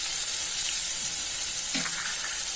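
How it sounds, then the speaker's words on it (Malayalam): Sliced onion sautés in a pan as the base for ghee rice, giving a soft, steady sizzle of hot fat with a brief stir or scrape partway through and no talking. "സവാള ഒന്ന് വഴണ്ടിട്ടുണ്ട്."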